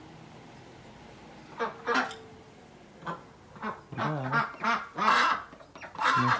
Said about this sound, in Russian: Так это утку.